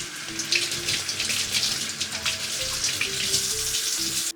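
Tap water runs steadily over a green bell pepper being rinsed in a kitchen sink, with splashing and shifting patter as the pepper is turned under the stream; no one speaks.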